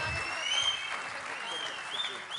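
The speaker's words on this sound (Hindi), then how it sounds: "एक बार जोरदार तालियां।" Applause from a Hindi comedy poetry gathering (hasya kavi sammelan) audience, a steady wash of clapping that holds for a couple of seconds at moderate volume under a faint voice.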